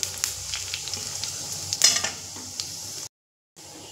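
Whole garam masala, cumin seeds and a dried red chilli crackle in hot oil, making a soft sizzle with small spattering pops and a few light stirring clicks. The sound cuts out briefly near the end.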